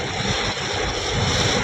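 Strong wind and driving rain in Tiruppur lash a swaying tree, producing a steady, loud, broadband rush with low gusting rumble and no pauses.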